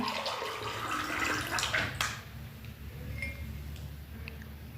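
Rushing water of a fast river flows steadily nearby, a continuous splashing wash with a few sharp drips and knocks over the top.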